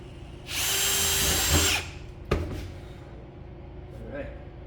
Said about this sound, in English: drills, for the most part, cut with the front of them